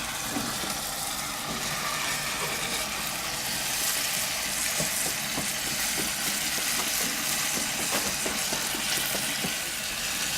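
Food in a cast iron pan on an outdoor grill, a steady close sizzle and crackle that runs without a break, with faint scattered pops and a low background hum.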